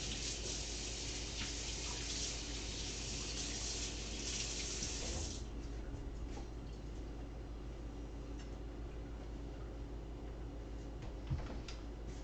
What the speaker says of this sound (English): So I'm gonna quick wash my knife off.